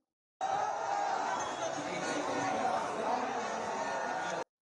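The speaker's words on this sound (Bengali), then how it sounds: "এরা কারা যারা উল্লাস প্রকাশ করতেছে" Crowd cheering and shouting from a played recording, a dense steady roar of many voices that holds loud and unbroken throughout.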